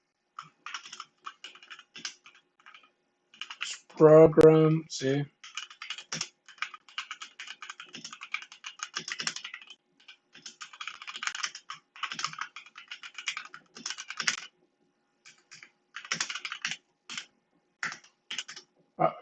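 Steady typing on a new computer keyboard, a fast stream of close, crisp key clicks with brief pauses, and someone briefly talking partway through.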